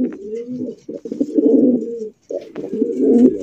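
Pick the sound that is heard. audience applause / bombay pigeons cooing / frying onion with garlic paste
bombay pigeons cooing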